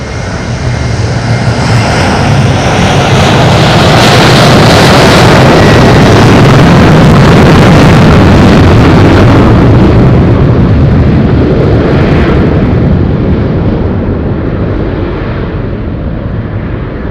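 A plane on approach to Madeira Airport in gusty, shifting wind roars loudly and steadily overhead, engine noise swelling and then fading over many seconds with heavy wind buffeting.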